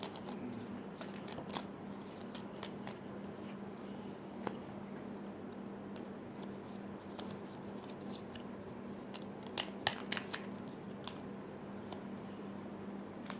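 Tarot cards being shuffled and drawn, a soft continuous riffle with scattered crisp snaps and flicks close by over a steady low hum, no voices.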